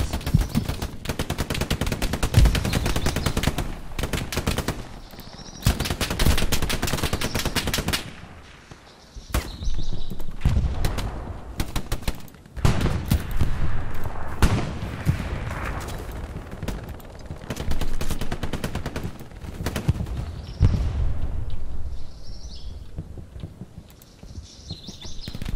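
Gunfire bursts and grenade blasts from the video game Hell Let Loose, loud rapid rifle and machine-gun fire in clusters with short lulls between, plus scattered distant shots.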